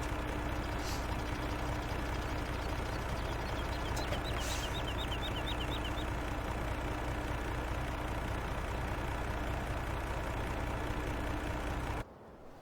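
A silage truck in Farming Simulator 17 on a Canadian map, heard as a steady low engine idle drone with a constant hum, a few faint chirps and ticks overhead, cutting off abruptly near the end.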